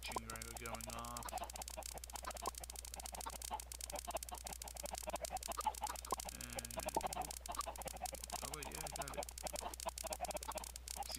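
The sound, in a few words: chickens in a Minecraft automatic chicken farm, from a video game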